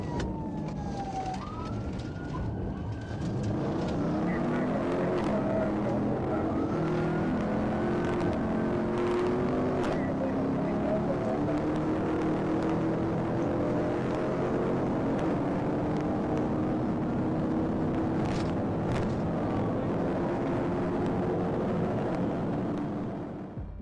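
A Dodge Charger speeds through traffic at over 140 mph with its headlights off during a police chase. A steady engine and road roar runs under wailing, sweeping police sirens throughout.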